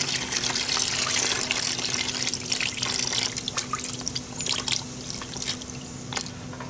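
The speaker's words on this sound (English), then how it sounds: "I rinsed my tank out with a water hose" Water from a hose splashes and gurgles inside a rusty motorcycle gas tank during rinsing, a continuous close hissing spray with shifting sloshy bursts and a faint steady hum beneath.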